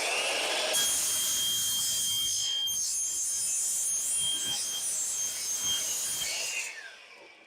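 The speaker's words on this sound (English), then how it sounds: "Let's head over to the saw, cut up all these pieces, and start nailing them in place." A power saw cuts vinyl siding pieces for a backyard shed, a steady loud whine with rasping bursts running almost continuously before stopping near the end.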